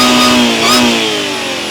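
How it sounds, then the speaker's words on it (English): A supercharged Audi S4 or S5 engine revs loudly with a high supercharger whine rising on top, then settles back as the pitch slowly falls. "you could really hear that supercharger"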